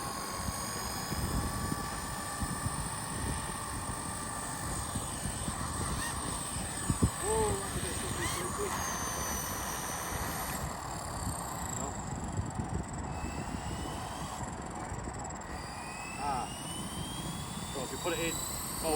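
A Blade 200SRX RC helicopter's rotor spins up on its own with no throttle, making a steady whirring whine with rising and falling tones, while people talk over it close by.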